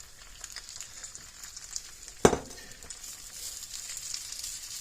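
Ground beef dropped into a hot pan for a tater tot casserole, a sudden loud sizzle burst that tapers off into a steady low frying hiss.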